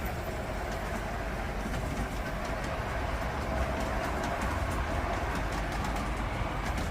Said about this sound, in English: Here comes one through, and that's the big diesel train I just showed you a little while ago.